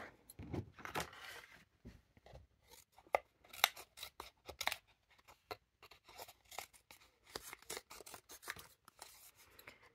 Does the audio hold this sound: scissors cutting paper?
yes